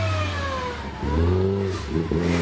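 A Porsche Boxster races up the Prescott hill climb, its engine revving hard and rising in pitch, then shifting and climbing again, loud and close with no talk.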